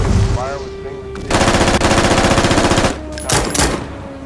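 Rapid machine-gun bursts and rattling gunfire from an archival Marine landing under fire, loud sustained automatic fire with shorter sharp volleys, over a low rumbling background.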